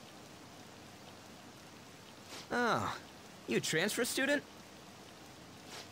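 Steady rain hisses evenly in the Persona 5 Royal video game, a soft constant wash throughout while two voices speak briefly over it.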